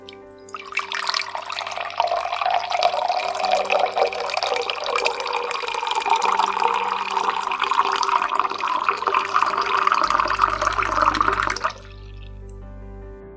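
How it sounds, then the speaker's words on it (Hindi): Three cups of water poured steadily into a pan for pomegranate tea, a continuous bright splashing stream lasting about eleven seconds before it stops and leaves a low hum. "अब एक पैन लें और इस पैन में 3 कप पानी डाल लें।"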